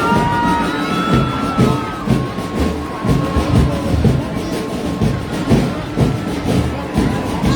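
A crowd claps and cheers steadily at an Independence Day school celebration in Kalimpong as a scouts and guides contingent marches past, the applause loud and continuous with scattered shouts.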